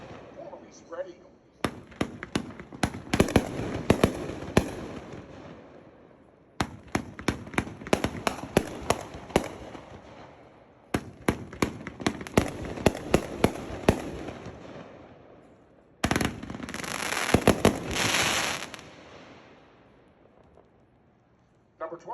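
Consumer 500-gram firework cakes at a fireworks demo fire several long volleys of sharp bangs and crackling bursts, some with gold willow effects, each volley loud and dense before short pauses.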